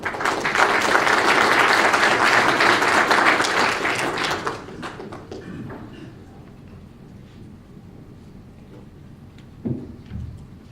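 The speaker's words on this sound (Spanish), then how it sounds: "Fuerte aplauso, por favor" A large audience at a formal Peruvian defense-sector event applauds loudly and steadily for several seconds after a general is introduced, then the clapping fades into quiet room noise with a few scattered thumps.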